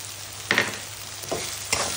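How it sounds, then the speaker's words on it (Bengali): Turmeric and Kashmiri chili powder frying in hot oil give a low steady sizzle, broken by three short scraping stirs of a spoon against the pan, close and brief, no speech. "তো চলো মশলাটা এবার একটু কষিয়ে নিই"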